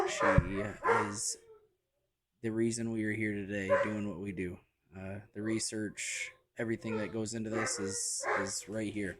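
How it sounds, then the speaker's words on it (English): Dogs barking and yipping in the background behind steady close speech from a woman on a podcast, the barks faint and intermittent under the talk. "Apologies for the dogs going crazy in the back."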